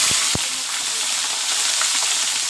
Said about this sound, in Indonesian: Selanjutnya kita goreng